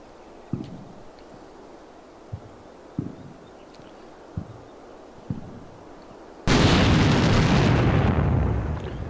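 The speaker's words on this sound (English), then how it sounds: "That was most likely an aftermath explosion. The ordnance going off in the tank there." In a video game, ammunition cooks off inside a destroyed tank: several sharp, scattered thumps and pops, then a sudden loud, sustained roaring blast that fills the end.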